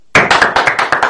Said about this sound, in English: This is where you guys clap.